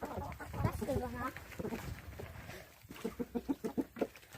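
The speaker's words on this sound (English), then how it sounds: "These are my chickens." Farm chickens cluck close by, first a few scattered calls and then a quick rhythmic series of short clucks, with some voice-like sounds mixed in.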